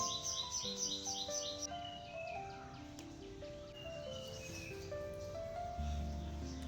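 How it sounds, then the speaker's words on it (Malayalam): Outdoors, many birds sing at once: a quick high trill at first, then a mix of drawn-out whistles and short tweets at varying distances, soft and continuous with no voices. "ഫുള്ള് കിളികളുടെ ശബ്ദമല്ലേ"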